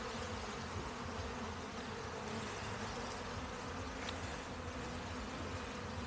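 Honeybees hum in an opened hive during the year's first inspection, a dense, steady, quiet buzz with no voices.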